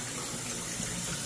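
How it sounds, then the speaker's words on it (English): Water rushes and splashes steadily out of a pipe at the side of a drain, fed by a running bathtub during a sewer inspection, a continuous close gushing with no voices. "when you see the water coming out of the pipe on the side of the drain"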